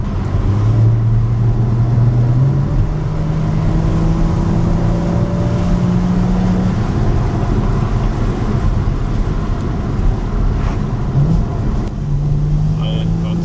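A Porsche 981 Cayman engine hums loud and steady from inside the car on a road, its tone climbing in smooth rising sweeps as it accelerates, with a voice talking over it.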